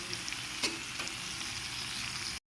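Potato and bitter gourd sizzle in hot oil with spice paste for a bitter gourd and prawn dish, a steady close frying hiss with a couple of light stirring knocks, no talk.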